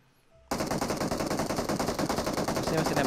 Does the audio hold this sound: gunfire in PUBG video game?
yes